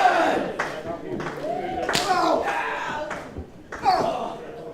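A wrestling crowd at a tag team match claps and shouts to rally downed wrestlers, with sharp slaps and cheers heard beneath loud, excited commentary.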